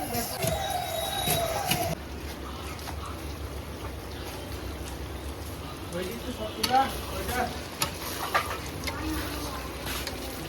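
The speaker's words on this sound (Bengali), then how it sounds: "মাংসর তেলেই মাংস রান্না হচ্ছে।" Chicken meat sizzles and fries in its own rendered fat with no added oil, a soft crackling hiss with occasional stirring and scraping in the pan, quiet and close, with some talk over it.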